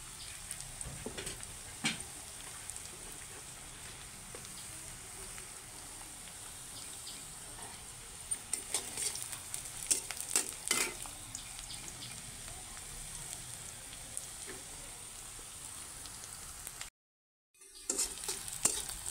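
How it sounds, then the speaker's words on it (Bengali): Onions fry in a pan, a soft continuous sizzle with scattered scraping stirs and spatula taps, dropping out briefly near the end before resuming. "তো পেঁয়াজগুলো ভাজা হয়ে গেছে"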